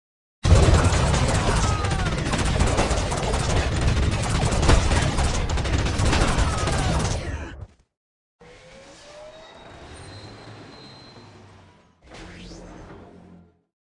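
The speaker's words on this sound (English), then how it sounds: "Taking heavy fire." Heavy gunfire and battle noise from the Warhammer 40,000: Dawn of War video game, a loud dense barrage for about seven seconds, then a sudden break followed by quieter rumbling and whooshing effects.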